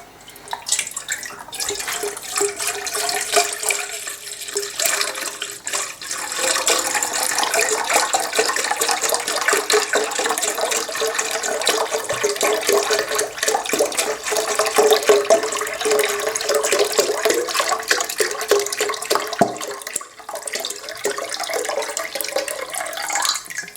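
A litre of whole milk pours into a bowl for crepe batter, a steady liquid stream running for about twenty seconds at moderate, even loudness with no talking.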